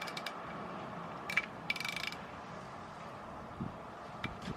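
Small torque wrench tightening the oil drain bolt on an Alta Redshift SM electric motorcycle to 3 newton meters, heard as a few brief faint mechanical clicks and ratchet ticks over a steady low background hum.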